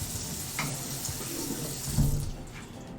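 Tap water runs steadily into a kitchen sink as food is rinsed in a strainer, a continuous splashing rush with a brief louder gush near the end and no talking.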